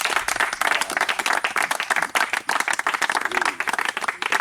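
A church congregation applauding during a baptism service, with dense, continuous clapping from many people throughout, fairly loud and close, with a few voices mixed in.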